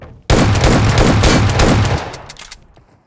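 Shotgun blasts in the video game BGMI, a loud rapid burst of close gunfire lasting under two seconds before a quick fade.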